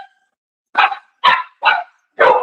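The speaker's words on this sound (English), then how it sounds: "I bet the neighbors' dogs are out." Neighbours' dogs bark outside, four sharp separate barks with short gaps, clear and fairly close against a quiet background.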